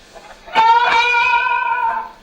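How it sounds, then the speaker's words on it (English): An electric guitar chord struck twice with one pickup's phase reversed, thin and trebly with a hollow, nasal tone, sustaining steadily before cutting off. "if I reverse the phase of one of the pickups, it goes very trebly"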